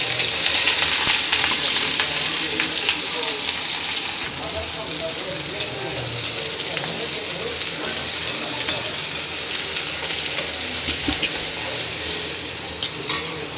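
Spices tempering in hot oil for pakoda give a loud, steady sizzle and crackle that runs unbroken throughout, with occasional stirring and light clatter from the pan.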